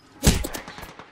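A short burst of gunfire in a shooter video game, a loud close shot followed by a quick ragged rattle of further rounds lasting about a second, with no talking.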